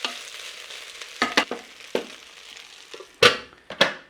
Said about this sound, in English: you've got to open up the rice cooker and you've got to give it a stir